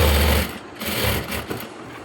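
A sewing machine stitching churidar pants, running in a fast, steady whir with a short slowdown partway through, close and loud with no talking.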